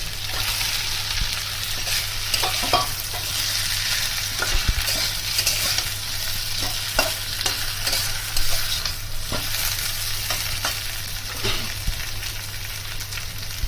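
Fish heads frying in hot oil with Kashmiri chilli powder for Bengali muri ghonto, a strong continuous sizzle with frequent stirring scrapes and clinks of a utensil against the pan, close and steady without speech.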